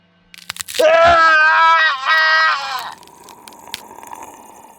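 A man's loud, drawn-out scream in a horror radio drama, set in an army barracks, rising sharply and holding for about two seconds before breaking off into a quieter reverberant tail, with no talking.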